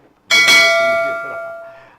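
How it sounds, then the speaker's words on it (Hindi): A single bell is struck once, giving a bright metallic ring that fades slowly over about two seconds, alone. "घंटी भी बज गई है वो"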